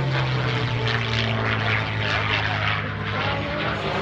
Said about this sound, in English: the P-51 Mustang.